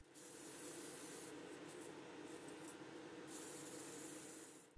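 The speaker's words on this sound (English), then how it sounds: "Here, I'm priming this skeleton with Army Painter's Matte Black Primer." A can of Army Painter Matte Black Primer sprays steadily onto a miniature skeleton figure, a continuous close hiss that shifts slightly in tone as it plays, with no talking.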